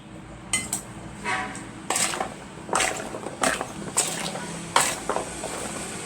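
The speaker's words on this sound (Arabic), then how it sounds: "هقلب كويس خالص الخليط اللي عندي علشان الليمون يدخل فيه كله" A spoon scrapes and clinks against a bowl while a mixture with lemon is stirred, giving a close, irregular series of sharp metallic knocks and rasping scrapes about every half second.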